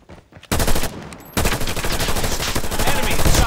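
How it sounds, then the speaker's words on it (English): Loud, dense automatic gunfire from a multiplayer shooter video game in a hardpoint match, sustained bursts after a brief quiet start with a short dip, then continuous rapid fire to the end. "Enemy shooting."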